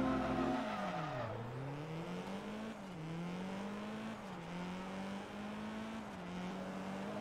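A Nissan S15 race car in Forza Motorsport 2 roars steadily, its engine note dropping through gear shifts and then holding a loud, sustained drone with small rises and dips, close and alone.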